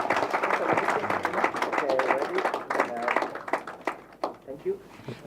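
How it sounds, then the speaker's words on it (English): A seminar audience gives a round of applause for a presentation of a token of appreciation, clapping in a dense burst mixed with a speaker talking over it, fading out toward the end. "So a big round of applause."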